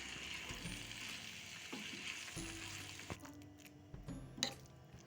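Okra, onion and tomato frying together in a pan for bhindi do pyaza, a soft steady sizzle with occasional stirring scrapes and clinks, fairly quiet and close, with no talking.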